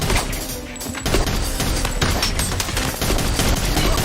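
Dense, sustained automatic gunfire from a John Wick action film scene, loud and continuous, with rapid bursts overlapping crashes and impacts across the whole stretch.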